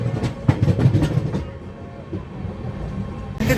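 The Rayalaseema Express, a superfast train between Nizamabad and Tirupati, rumbles loudly along the rails with steady clickety-clack wheel beats, the rhythm easing midway before a sharp clatter returns near the end.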